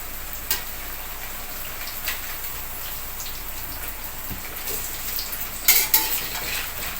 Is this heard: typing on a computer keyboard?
no